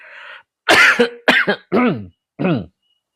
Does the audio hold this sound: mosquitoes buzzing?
no